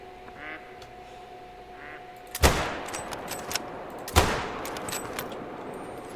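Two loud gunshots ring out about two seconds apart in a deer hunting video game, each with a sharp crack and a rolling echo, over quiet ambient background sounds and faint bird calls.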